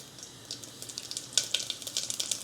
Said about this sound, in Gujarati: તો આપણે અહીં તેલ ગરમ થઈ ગયું છે, તો આપણે એમાં જીરું નાખી દઈએ